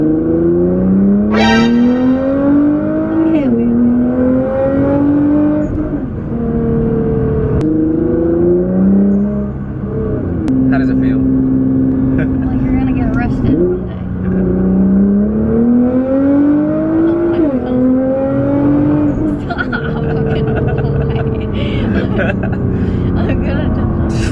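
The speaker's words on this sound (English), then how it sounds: "this car makes a lot of noises from the transmission" Inside a new all-wheel-drive car under way, a loud whining drivetrain rises in pitch through each gear, drops at every shift and climbs again, with engine drone and road noise beneath and a voice talking now and then.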